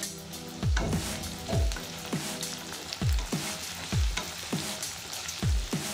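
Chopped onions frying in mustard oil over a medium flame, a constant loud sizzle broken by regular low thuds and scrapes as a spoon stirs them, roughly once a second.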